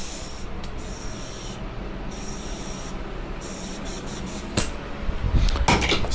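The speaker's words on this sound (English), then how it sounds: "Throw some air back in here." Air hisses steadily from a pump or inflator into a bicycle tire on a Cannondale Super X gravel bike set up tubeless, a continuous close spray-like rush ending in a few rubbing knocks.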